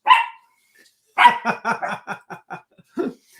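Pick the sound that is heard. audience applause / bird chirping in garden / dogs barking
dogs barking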